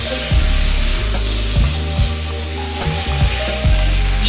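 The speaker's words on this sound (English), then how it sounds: "we're going to stir fry that around. High heat. Keep it moving." Spicy potatoes stir-frying over high heat with fresh chili and thinly sliced tomato, a steady loud sizzle broken by repeated scraping stirs and low thumps as the pan is kept moving.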